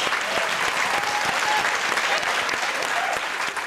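Studio audience applause at a televised quiz show, a dense, steady wash of clapping from many hands that holds at full strength for the whole stretch before thinning slightly at the end.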